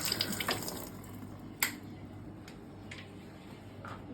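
A kitchen tap runs while a mug is being washed, a soft steady trickle of water at close range with a few small knocks and clinks from the mug, no one speaking.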